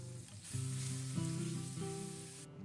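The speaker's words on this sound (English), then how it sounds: "Add the salmon and sear it until it is deeply browned." Salmon sears in a hot pan with a soft, steady sizzle. A few tonal hums sit underneath it, the whole sound brief and quiet, with no voices.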